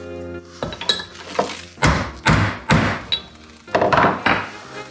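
A Timken front wheel bearing is tapped into its casing on a Classic Mini in a workshop, giving a run of sharp, close metallic knocks and thunks at an uneven rhythm with short gaps between.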